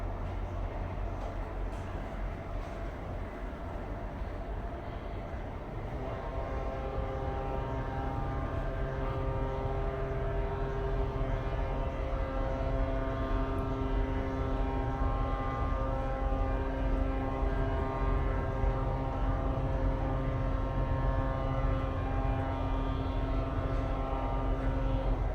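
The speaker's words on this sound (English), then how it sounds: "all the vessels in blowing our horn for 15 seconds to express our solidarity with them" The ship Ardmore Seavanguard and other vessels sound their horns together, deep sustained tones that layer in after a low rumble and hold steadily, faint and distant.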